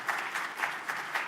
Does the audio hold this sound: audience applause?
yes